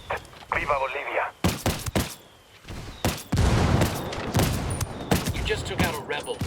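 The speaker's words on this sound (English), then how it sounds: "Calling for indirect fire. Copy that. Fire for effect." Indirect artillery fire strike in Ghost Recon Wildlands, heavy booming impacts and sharp blasts landing in quick succession, some loud and close, with a voice talking between the explosions.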